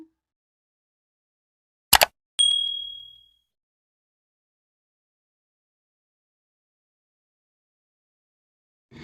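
A notification bell sound effect: a sharp click followed by a single bright ding that rings and fades over about a second, alone in near silence.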